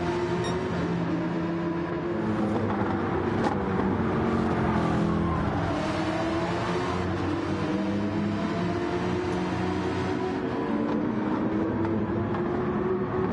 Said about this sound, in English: Marriott retains the lead of the British Grand Prix, but is yet to use the hard compound tyres.